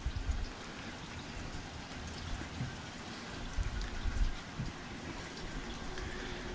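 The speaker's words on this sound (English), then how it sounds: "that wasn't the worst hailstorm we've had" A hailstorm batters the surroundings with a dense, steady hiss of pelting ice and water that swells slightly at moments, continuous and fairly close, with no voices.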